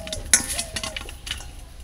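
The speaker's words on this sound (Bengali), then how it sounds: "আলুটাকেও লম্বা লম্বা করে কেটে নেব" Knife slicing potatoes into long strips, a few light clinks and taps close by, one sharper knock early, quiet and without talk.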